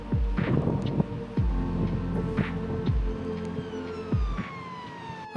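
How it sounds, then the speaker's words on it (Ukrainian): London city traffic rumbles past while a wailing siren rises and falls in repeated sweeps, with gusts of wind on the microphone. "Але ці мрії перебивав шум трафіку та сирен."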